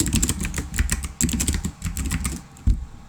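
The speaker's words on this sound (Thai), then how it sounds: "ผมพิมพ์ว่าลอง" Rapid, uneven keystrokes on a computer keyboard, close and fairly loud, typed in short bursts with a few heavier taps, no voices.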